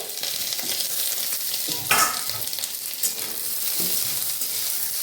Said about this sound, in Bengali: পেঁয়াজগুলো দিয়ে ফ্রাই করছি।